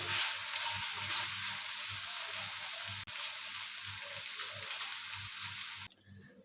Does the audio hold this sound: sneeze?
no